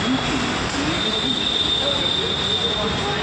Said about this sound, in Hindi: दूसरी मेट्रो आई है अभी तो।